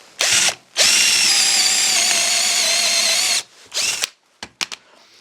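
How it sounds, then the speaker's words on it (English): A Kimo hammer drill bores a hole, with a short burst and then a sustained loud whine of the motor lasting about three seconds, followed by brief start-stop bursts and a few clicks, close and alone. "Let's turn it back to the drill and try that same hole again right over here."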